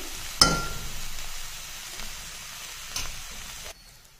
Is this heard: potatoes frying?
yes